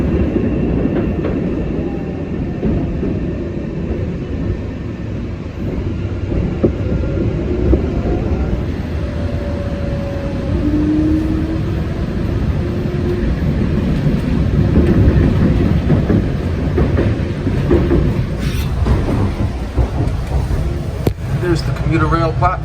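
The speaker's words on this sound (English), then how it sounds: "As soon as the other train arrives." A train rumbles steadily into Forest Hills station, low and loud, with rail squeals and clanks over the roar, and voices faintly underneath.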